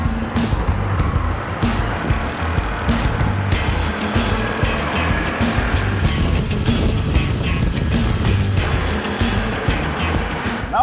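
A Suzuki Access 125 scooter rides along a road, with a continuous, steady engine hum blended with wind and tyre rush at an even loudness and no talking.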